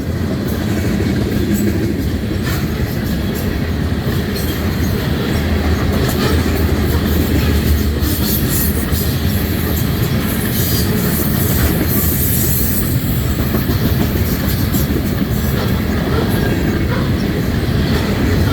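A CN freight train hauling potash loads rolls past at Ladysmith, Wisconsin, a loud, close, continuous rumble of railcars with rhythmic wheel clatter and occasional squeal, no voices.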